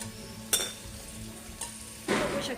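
Semolina roasting in ghee in a pan, with a few sharp scraping stirs of a spoon against the metal and a soft, steady sizzle underneath. No talking.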